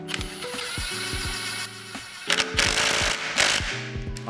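A power tool drives two screws into the folding mechanism of an Apollo Phantom 2.0 electric scooter, whirring and buzzing in several close bursts with brief pauses between them.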